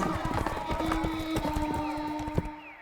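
Hurried running footsteps of panicked humans fleeing a roaring lion, a dense patter of quick thumping strides with busy, crowded movement, steady and fairly close throughout.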